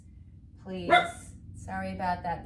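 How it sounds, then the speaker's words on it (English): A pet dog barking indoors during a slow flow vinyasa yoga class, two or three sharp barks close by, mixed with an instructor's talk. "Excuse my dogs"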